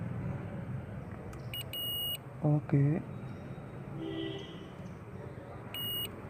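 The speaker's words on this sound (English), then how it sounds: "we are gonna check this one, making a beep sound" Short, high-pitched multimeter continuity beeps sound twice, a few seconds apart, while testing car headlight low-beam wiring, over a low background hum with a brief voice in between.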